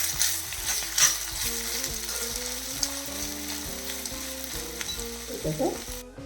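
Ginger sizzles steadily in an iron pan over a medium flame, with a soft scrape of stirring now and then and a brief clatter of the spoon near the end, no voices.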